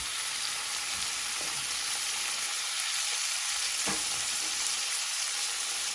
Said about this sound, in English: this is where I'm going in with my king prawns